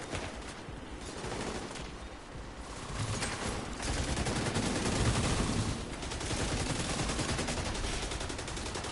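Sustained automatic gunfire from The Division 2 rattles in dense rapid bursts across several seconds, swelling louder in the middle and staying busy throughout, with no speech over it.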